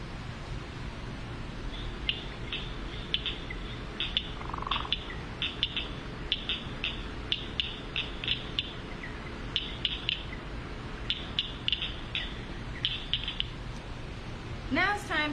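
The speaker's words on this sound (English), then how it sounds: "And now we are going to listen to our Blanchard cricket frog." A Blanchard's cricket frog calls in runs of sharp, dry clicks that speed up in clusters and then pause, fairly faint over a low, steady background hum.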